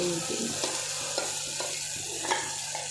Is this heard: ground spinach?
yes